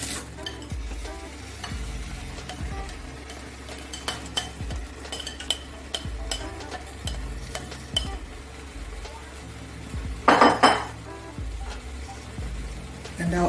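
Mixed vegetables stirred into minced meat and pepper in a pan for a Nigerian vegetable sauce, with scraping utensil strokes, a low sizzle and one louder clatter of cookware.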